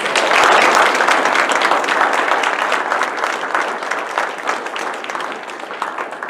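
A large audience at a candidate forum applauds continuously, dense clapping that starts strong and slowly eases off, with no voices standing out.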